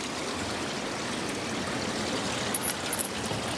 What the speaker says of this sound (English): we got a little bit bigger of a creek. You can actually hear it.